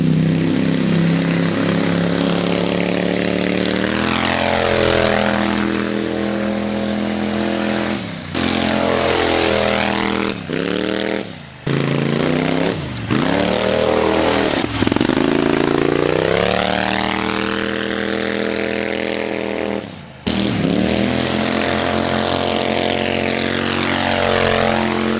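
A Harbor Freight 670cc V-twin buggy engine with a CVT revs hard and loud up close, rising and falling through several long throttle sweeps with brief drops between pulls and no talk.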